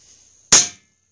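A single sharp, loud crack from a .22 caliber Benjamin Discovery air rifle rings out once up close, with a quick decay, preceded by a faint steady high whine.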